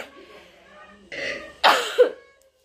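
A person with a persistent, excessive cough clears their throat and then gives two sharp, close coughs in quick succession near the end, after a quieter stretch of breathy throat noise.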